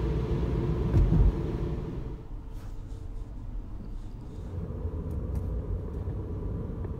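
A car drives along a flooded highway during a hailstorm, a steady low road rumble and engine drone close inside the cabin, with occasional faint knocks and splashes over the continuous noise and no talking.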